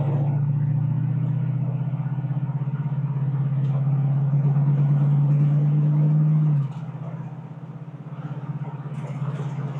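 A 1966 Ford Mustang pulls out onto the road with a loud, steady engine drone under acceleration, held close for several seconds before the pitch drops sharply as it shifts and settles into a lower cruising rumble.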